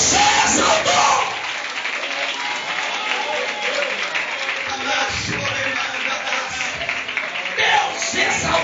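A church congregation applauds loudly for several seconds during a Portuguese-language sermon, with dense continuous clapping, occasional shouts, and a swell at the start and again near the end.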